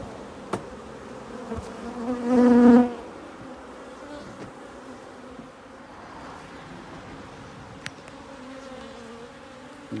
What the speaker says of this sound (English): Now, before I do that, I have to, of course, shake off the bees. This is about to make some chaos.